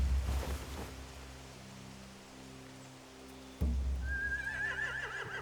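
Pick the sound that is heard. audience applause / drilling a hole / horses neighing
horses neighing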